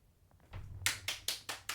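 Five or six sharp claps in a steady rhythm, fairly close and moderately loud, from a graduation ceremony in Persona 3 Reload, with faint quieter taps just before.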